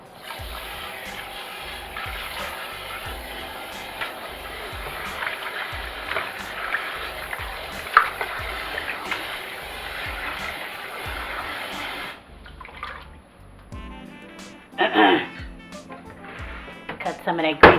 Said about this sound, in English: now we're going to give them another good rinse